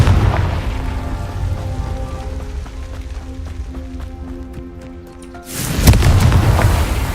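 A Confringo blasting spell in the Hogwarts Legacy video game sets off a deep boom that rumbles and fades, then a second loud blast hits near the end.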